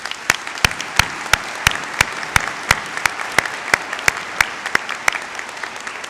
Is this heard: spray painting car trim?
no